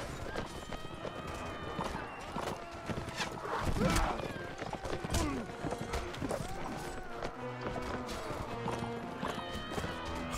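Cavalry horses in the medieval combat game Mount and Blade Warband clatter with hoofbeats and occasional whinnies amid battle noise, continuous and busy, with someone talking over it.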